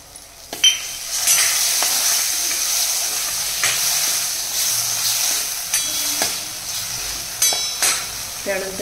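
Jaggery and tamarind pulp go into a sizzling, well-fried ground spice paste for a bitter gourd pickle, a steady hiss of frying with occasional clinks and stirring sounds.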